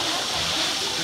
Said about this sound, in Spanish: Estoy aquí en el río subterráneo.